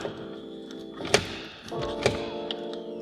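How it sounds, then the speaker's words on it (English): A door card on a Mercedes C63s AMG is shifted inside a quiet workshop, giving two distinct plastic thunks about a second apart, close by, with faint tapping around them. "So I drop this door card slightly"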